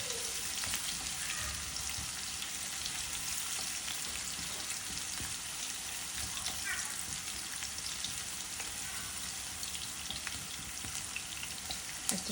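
Onion frying in oil in a pan, with shrimp among the ingredients: a steady, dense sizzle and crackle held close throughout, with occasional stirring scrapes and no talking over it.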